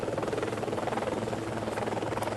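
An orange air ambulance helicopter at a highway crash scene gives a steady, close rotor thump with a pulsing, even rhythm and no talk.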